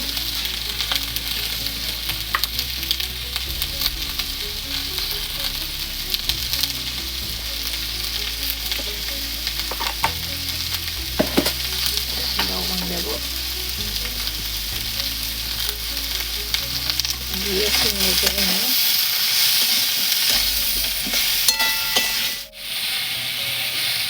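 Dal with ginger and turmeric frying and being stirred in a pan for sambar, a steady close sizzle with occasional scraping stirs, continuous and loud throughout with no talking.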